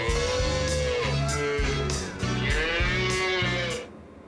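An electronically processed cow moo in a long, drawn-out call, its voice rising and wavering with a pulsing rhythm before cutting off.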